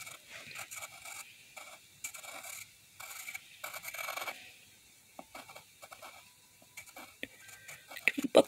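A pen scratching and rubbing across paper while a cartoon hamster is drawn, in short close strokes and pauses with a few louder marks near the end.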